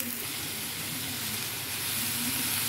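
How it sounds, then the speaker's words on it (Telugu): Onions, beetroot and carrot fry in a hot tempering, giving a dense and continuous sizzling hiss. It is close and fairly steady throughout the short stretch, with no voices. "ఉల్లిపాయలు ఇవన్నీ వేగిన తర్వాత బీట్రూట్ క్యారెట్ కూడా వేసేద్దాము"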